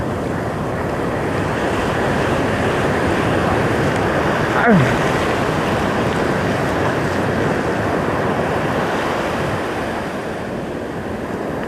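Sea waves break and wash steadily on a remote beach at the southern tip of Java, a broad continuous roar with heavy wind buffeting the microphone.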